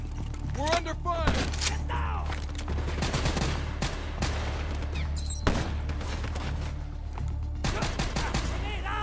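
Gunfire in Call of Duty Black Ops III campaign: dense bursts of rapid shots and sharp cracks crowd the battlefield, with ricochet-like whines, mechanical clatter and a steady low rumble underneath, near and loud throughout.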